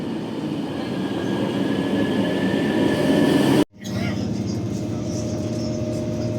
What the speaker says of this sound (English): This is the main train station